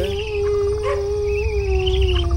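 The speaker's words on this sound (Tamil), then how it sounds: "நாய் சத்தம்லாம் கேக்குது சார்" A dog howling in one long, loud, sustained wavering cry with slight pitch bends, close and heard alone over a low rumble.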